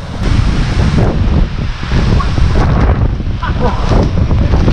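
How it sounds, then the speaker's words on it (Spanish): Water pounds down at the base of La Candelaria waterfall in Colombia, a loud, close, continuous roar mixed with heavy wind buffeting on the microphone. "El agua pega muy fuerte."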